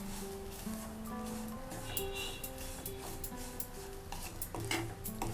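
Freshly grated coconut frying in ghee for rava laddu, stirred in a pan with clinks and scrapes of a utensil over a faint background sizzle, close but quiet.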